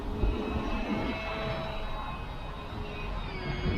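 A small XK A600 RC plane flies overhead, its electric motor giving a steady, fairly faint whine that hums on without a break against light background noise.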